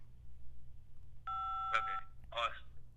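A few short electronic beeps sound on a telephone line during a prank call, faint and thin, with muffled voices on the line.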